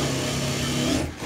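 A sewing machine runs steadily and loudly at close range, stitching a three-dot blouse in one continuous whir that stops at the very end.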